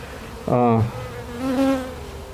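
Honey bees buzz around an open hive during an inspection, with a loud nearby drone swelling as one bee passes close, then a second, softer pass of wavering hum over a steady background buzz.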